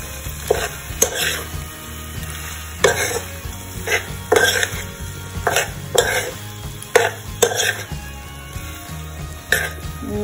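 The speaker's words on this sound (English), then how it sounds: "Mix it well." Pasta being stirred into red sauce in a pan, with repeated scraping strokes and wet squelching over a soft background sizzle, close and irregular.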